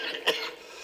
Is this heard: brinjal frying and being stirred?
no